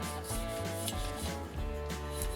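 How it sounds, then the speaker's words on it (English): Close, steady scrubbing of the left rail on a Glock pistol during cleaning, a continuous bristly rubbing at low level with a faint tonal hum behind it. "We're going to go to the left rail here, and you want to get that in there and start to scrub that out."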